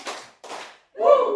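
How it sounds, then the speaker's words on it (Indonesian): Two crisp hand claps about half a second apart from a group of adults standing in a school ice-breaking session, followed by a voice speaking. "Tepuk satu, tepuk dua,"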